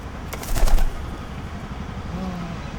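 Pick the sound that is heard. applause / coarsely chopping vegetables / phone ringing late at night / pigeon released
pigeon released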